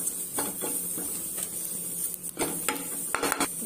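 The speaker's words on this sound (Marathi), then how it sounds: "आता आपण आपले मसाले मिक्स करून घेऊयात।" Spoon clinking and scraping in a bowl as turmeric, chutney and spices are mixed for a potato sandwich filling, with several sharp knocks and clatters over a steady background hiss.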